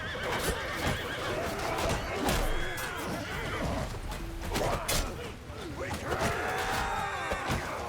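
Cavalry horses neigh and whinny repeatedly amid a video game battle, several loud whinnies overlapping with hoof clatter, clashes and general battlefield din.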